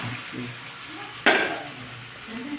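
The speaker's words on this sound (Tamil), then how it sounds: "மேக்ரோனியை சேர்த்து மேக்ரோனி குழையாமல் நன்றாக கிளறி விடவும்" Macaroni is stirred into tomato sauce in a metal pan with a spoon, giving soft, close scraping and a single sharp clank of utensil against the pan midway.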